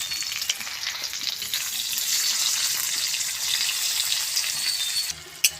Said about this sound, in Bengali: পেঁয়াজগুলো লাল লাল করে ভাজা হয়ে গেছে